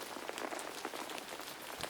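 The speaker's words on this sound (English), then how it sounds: "Koko held out his arms and listened to the sound of the rain falling onto the material of his raincoat" Rain patters in a soft, dense, even hiss on a raincoat and the surrounding ground outdoors, quiet and steady with scattered drop taps and no voices.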